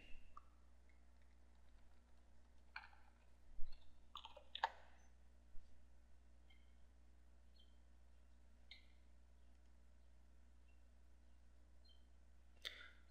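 A computer mouse clicks sparsely and close by, with a few single clicks and short clusters spread over a quiet background hum.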